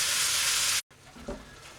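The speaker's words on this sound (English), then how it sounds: "Give it a stir, and I'll keep doing that for a couple of minutes until all the meat's nice and brown." Steak and kidney meat sizzling as it browns in a pan, a loud, bright hiss that cuts off abruptly, then returns softer with a stirring scrape.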